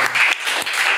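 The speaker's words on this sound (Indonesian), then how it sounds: "Tepuk tangan dong." Brief hand clapping in an indoor setting to welcome a guest, a short burst of a few quick claps from a small group, close and fairly loud.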